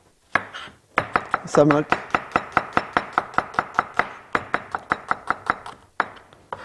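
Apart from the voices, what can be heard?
chopping onion with a knife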